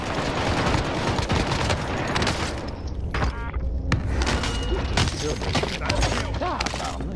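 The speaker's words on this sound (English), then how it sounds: "Frag on the way!" Frag grenade thrown and going off in Call of Duty Warzone, a loud sustained burst of booming blasts and gunfire-like cracks that fills the whole stretch, with a brief dip partway before more heavy impacts.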